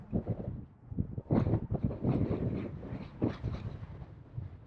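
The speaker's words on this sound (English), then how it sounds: "Sorry if you can hear the wind" Gusty wind buffets the microphone on Fleetwith Pike, a Lake District fell summit above Buttermere, roaring in loud uneven surges with a low rumble that never lets up across the whole stretch.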